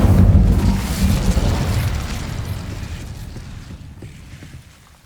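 An Incendio fire spell cast in Hogwarts Legacy: a heavy booming burst of fire that roars up at once, then rumbles and slowly fades away over several seconds, with no talk.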